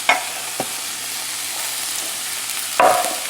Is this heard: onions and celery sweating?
yes